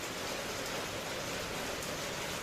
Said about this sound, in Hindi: जब तक ये बारिश नहीं रुक जाती